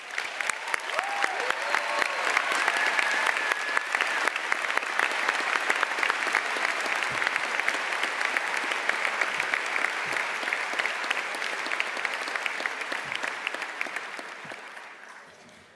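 An audience at a high school graduation ceremony breaks into sustained applause, a dense wash of clapping lasting about fifteen seconds before tapering off.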